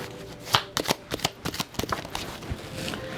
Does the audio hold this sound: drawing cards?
yes